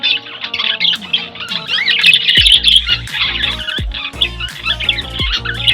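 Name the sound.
pet birds chirping and squawking in a cage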